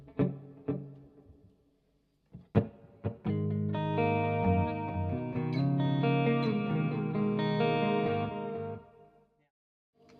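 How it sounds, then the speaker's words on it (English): Electric guitar through a delay pedal at a high setting: a few picked notes, then a sustained chord that swells and smears with repeating echoes before fading out. "Quite a lot of delay."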